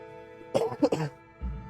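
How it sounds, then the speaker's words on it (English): A few close, harsh coughs in quick succession, followed by a brief low rumble, over a faint steady background hum. "Apologies for the coughing."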